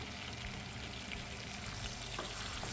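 Halibut sizzling in a pan of butter with thyme and rosemary, a dense continuous frying hiss heard close up and unbroken, with no voices over it.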